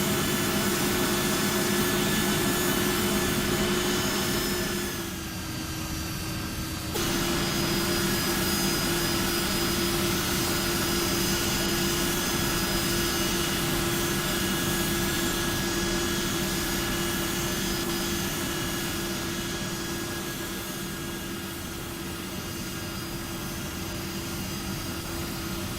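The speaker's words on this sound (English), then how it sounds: "Here's a flyby." A Flight Factor Boeing 757-200 in X-Plane 12 passes in a flyby near Liège, giving a steady, loud jet engine roar with a sustained whine that dips briefly and then holds constant throughout.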